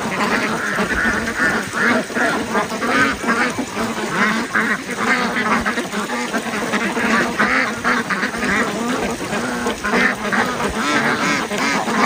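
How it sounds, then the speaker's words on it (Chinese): A crowd of farmyard ducks, white ones among them, quacks loudly and continuously at close range in a dense, overlapping chorus with no pauses. "还一只白鸭子没下来。"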